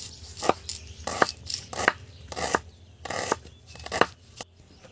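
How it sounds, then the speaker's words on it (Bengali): A knife chops through onion stalks on a board, about seven crisp, evenly spaced cuts at a steady unhurried rhythm, close and distinct with short pauses between strokes. "বন্ধুরা পেঁয়াজ কলিগুলো কেটে নেবো"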